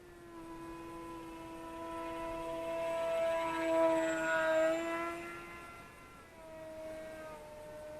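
A Volantex Ranger G2 RC sport glider flies with its electric motor and propeller giving a sustained, harmonic whine. The pitch slowly rises and falls as the plane passes at moderate distance. Nobody speaks.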